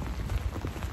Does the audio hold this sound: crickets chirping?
no